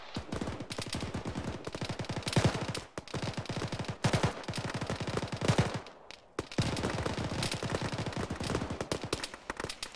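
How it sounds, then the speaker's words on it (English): In the Arma video game, sustained machine-gun fire rattles out in long rapid bursts split by brief pauses, loud and fairly close, with no voices over it. "we got some fire coming in from the east"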